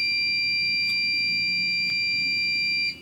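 A Potter ERCES Guardian battery backup unit alarm buzzer sounds a steady, loud, high-pitched continuous tone with faint periodic clicks, stopping abruptly at the end, over a low hum.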